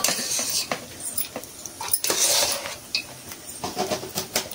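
Cooked rice being mixed with a lemon tamarind-style mixture in a pot for nimmakaya pulihora, with repeated scraping and clinking of a spoon against the vessel and soft stirring rustle, close and moderately loud, no talking.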